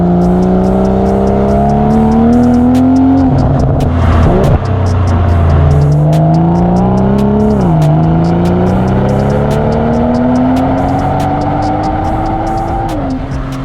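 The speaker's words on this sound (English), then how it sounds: "the Cobra Sport Venom system for the BMW M240i" A BMW M240i's B58 engine breathes through a Cobra Sport Venom rear axle-back exhaust, revving loudly in several rising sweeps with sharp drops and crackles between pulls, close and unbroken by talk.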